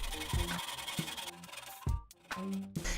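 Fine sandpaper rubs a cut copper pipe handle in close, rhythmic back-and-forth strokes, a scratchy rasp repeating about every half second.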